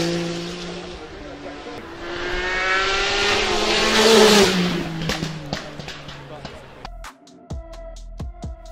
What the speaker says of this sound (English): Powered by legendary RB26 engine, producing incredible performance and an amazing sound.